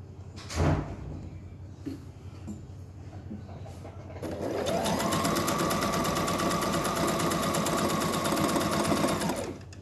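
A sewing machine stitches a 1 cm seam on a men's koko shirt, starting after a sharp knock and soft handling noises, then running steadily and loudly for about five seconds before stopping.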